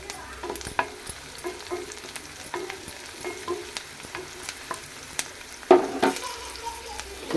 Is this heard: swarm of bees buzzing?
no